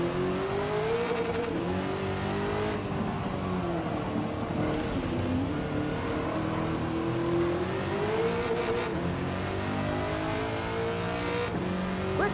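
A race car engine drones and revs steadily in Gran Turismo 7, its pitch rising and falling through gear changes with occasional tire squeal, loud and continuous throughout.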